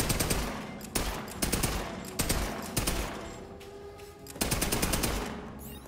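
Bursts of rapid gunfire from the video game Borderlands 3, several loud volleys with short gaps between them and a faint mechanical hum underneath.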